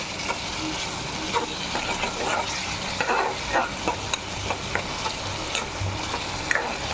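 Tomato masala with crab and green banana sizzles and fries in oil in a pan, with repeated stirring and scraping of a spoon against the pan, close and continuous, with no talking.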